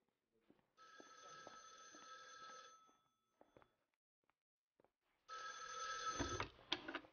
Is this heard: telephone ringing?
yes